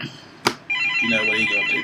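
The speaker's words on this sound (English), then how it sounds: "That's the phone." A telephone ringtone rings in a room after a card-game deck discussion, a steady electronic ring that starts abruptly and continues loud and close, with a brief click just before it and a voice talking faintly beneath.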